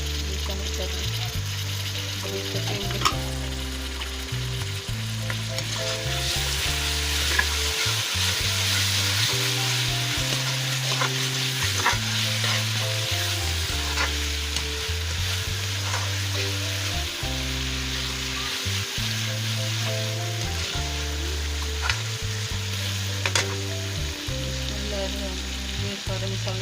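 Two medium-sized tomatoes hit hot oil in a pan while cooking chicken with peas and potatoes, giving a loud steady sizzle and frying hiss with stirring scrapes throughout, close and continuous.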